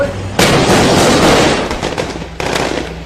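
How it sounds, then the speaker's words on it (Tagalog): Sustained gunfire rattles during a battle between government forces and the Maute Group in Marawi City, a dense loud volley that eases off then resumes with a second burst. "tuloy-tuloy ang pag-alingaw-ngaw ng putok ng baril sa gitna ng bakbakan ng gobyerno at Maute Group sa Marawi City"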